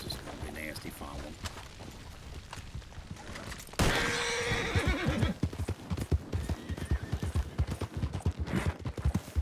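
Horses neighing and clip-clopping in a Western scene, with a sudden loud burst partway through, then continued hoof beats and whinnies as voices talk over them.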